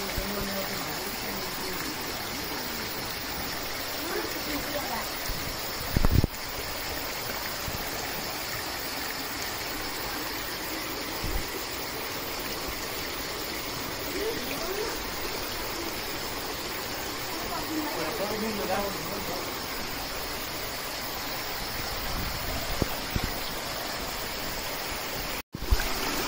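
Continuous rushing of a flowing stream in Shivapuri Nagarjun National Park, Nepal, steady and close, with occasional voices talking faintly beneath it and a few brief knocks.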